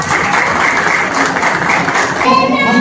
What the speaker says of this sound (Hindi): एक बार तालियों से हम स्वागत करेंगे।